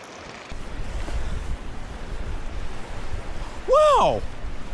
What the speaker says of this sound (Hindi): अब यहाँ से पानी का बहाव और ज़्यादा तेज़ है।